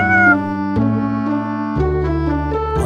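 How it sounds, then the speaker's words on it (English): A cat gives a medium-length meow, near and clear, with the tone stepping down through a few sustained pitched segments over about three seconds, alone in a quiet space. "A medium-length meow might be a request for water or food."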